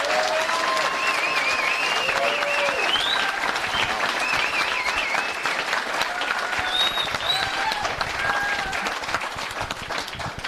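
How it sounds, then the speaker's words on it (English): An audience applauds the candidates at a Republican congressional forum, steady, full-room clapping sustained at even strength throughout, with faint voices and whistles rising above it. "could we have a round of applause for our candidates here this evening?"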